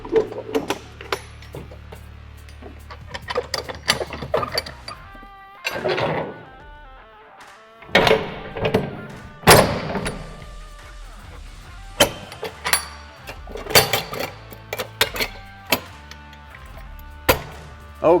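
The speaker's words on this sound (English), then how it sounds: "Anytime you're closing these trailer doors, you want to make sure you got the latch at the bottom and at the top" A semi-trailer door is swung shut and latched top and bottom during a Class A truck pre-trip inspection, producing a series of sharp metallic clanks, bangs and rattles in irregular bursts separated by brief pauses.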